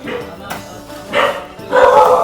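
A dog barks outdoors on a large Thai rice farm, a few loud rough bursts rising out of background talk and ambient noise.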